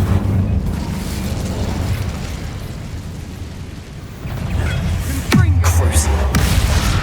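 A fire spell cast in the video game Hogwarts Legacy, heard as a low rumbling blast that builds and then erupts in a sharp burst near the end, over steady game ambience.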